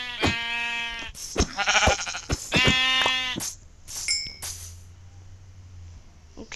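Sheep in a video game bleat several times in quick succession, nasal wavering cries up close, followed by metallic game dings and clangs, with no talking over them.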